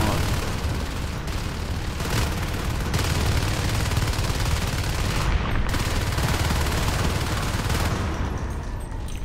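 Continuous loud gunfire from several weapons aimed at an alien hive in Natural Selection 2, dense rapid bursts filling the whole stretch with a commentator faintly talking underneath.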